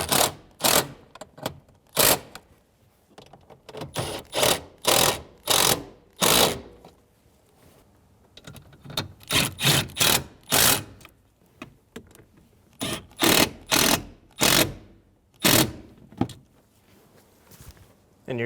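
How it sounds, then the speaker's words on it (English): Ratchet snugging down bolts on a 2000–2007 Ford Focus ignition switch, heard as bursts of sharp close clicks in quick rhythmic runs with short pauses between them. "Go around and snug down all the bolts."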